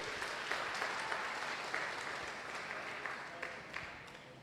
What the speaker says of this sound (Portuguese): Se você for aplaudir, aplaude direito.